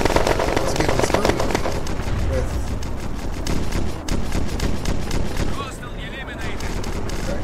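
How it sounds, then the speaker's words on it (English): An auto cannon fires in the online shooter video game Red Crucible: Firestorm, pounding out loud, rapid, sustained bursts that blur into a dense roar of gunfire, easing briefly near the end. "Some kind of cannon. Auto cannon on it."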